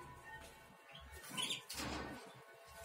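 Pet birds kept in breeding pairs chirp softly in a quiet room, several short bright tweets and a brief rustle of wings over a faint background hum.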